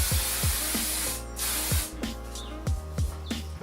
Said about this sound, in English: now I'm just going to put a little bit more hairspray to set the top of my hair